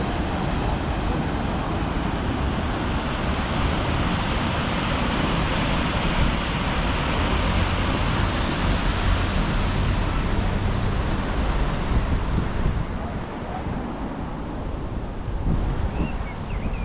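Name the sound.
rushing waterfall at Betws-y-Coed, North Wales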